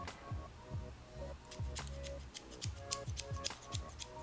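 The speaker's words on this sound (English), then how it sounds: "And then these scissors." Small craft scissors with a stopper in the middle snipping repeatedly, crisp close metallic clicks in an irregular rhythm, quiet and alone with no talking.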